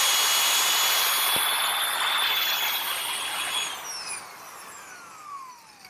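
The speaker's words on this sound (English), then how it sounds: "this little drum sander attachment that fits on my drill does a great job at sanding out these edges" A drum sander attachment spinning on a drill while sanding wood edges, whining with a steady high pitch that slowly falls as it winds down, with a brief tap near the start.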